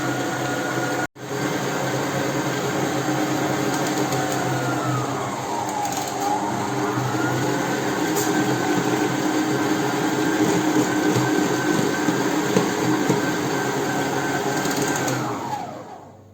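Electric mixer running steadily for a long stretch, beating chocolate sponge cake batter; a continuous loud motor whir with a slight pitch dip midway, then winding down at the end.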